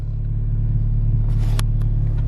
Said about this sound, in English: the car is running perfectly fine